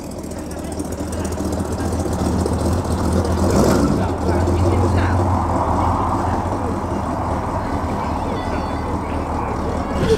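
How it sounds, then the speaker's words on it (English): A lowered-roofline pre-war Ford coupe with a big V8 rumbles past nearby, its deep engine note swelling then settling, with voices talking over it. "Sounds like a big V8 in there, unsurprisingly."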